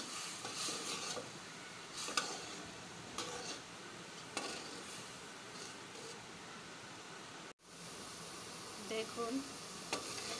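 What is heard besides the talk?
sautéing hidol (fermented fish) with garlic in a pan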